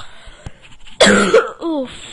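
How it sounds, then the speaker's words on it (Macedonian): A man coughs and clears his throat, a single sharp loud burst followed by a shorter rasping clearing, close to the microphone, with no talk. "Почекате малкце, ќе си искашлам."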